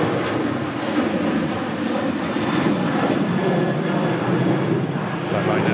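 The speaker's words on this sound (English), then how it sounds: "That Ryanair flight on the way out to Alicante" A Ryanair airliner climbs away on departure for Alicante, a broad, steady engine roar holding level throughout, fairly close and loud, with a voice talking faintly over it.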